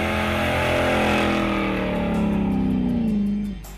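The supercharged big block Chevy with 850 Holley carbs in the '67 Crusher Camaro roars loud and close, its pitch sliding down as the revs fall away before settling to a lower growl.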